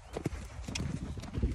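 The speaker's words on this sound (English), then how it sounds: "I'm just riding Doug." Hooves clip-clop at an uneven pace as a horse is ridden around a yard. The hoofbeats are faint and sound fairly close, and a little background noise sits under them.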